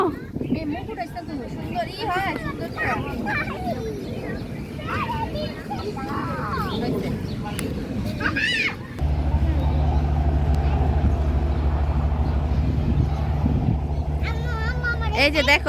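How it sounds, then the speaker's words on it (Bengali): A launch ship on the water, its low steady engine drone coming in strongly partway through beneath lively chatter and children's voices nearby. "এই দেখ জাহাজ যেতেছে দেখো তুমি দেখছো লঞ্চ"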